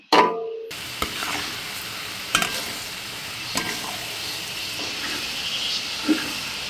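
Garlic, ginger and green chili fry in a pan, giving a low, steady sizzle with a few stirring clicks and scrapes spread across it. A short louder burst comes at the start.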